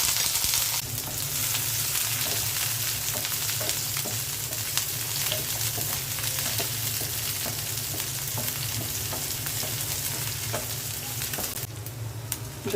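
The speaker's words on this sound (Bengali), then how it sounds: "পেঁয়াজ, রসুন আর কাঁচামরিচটা আমি ভেজে নেব।" Onion, garlic and green chili fry in mustard oil in a frying pan, giving a continuous close sizzle with light stirring clicks throughout.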